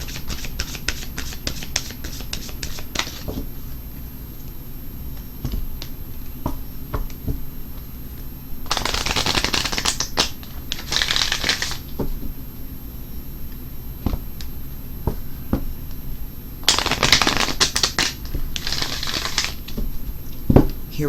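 A deck of Romance Angel oracle cards is riffled and shuffled in quiet bursts, with rapid fluttering card snaps at the start and a few longer shuffles later, close by and with no talking.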